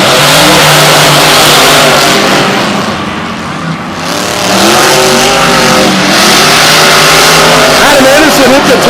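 Monster trucks at Monster Jam Tampa 2016 rev and accelerate at a race start, a loud, continuous roar of engines rising and falling in pitch, with a short dip midway and an announcer talking over it.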